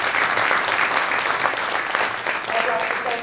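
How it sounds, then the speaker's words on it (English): Audience applause fills a legislative meet and greet in Torrance, California: dense, steady clapping from a crowded room that holds at an even level for the whole stretch, with a few voices mixed in. "So give them a big round of applause."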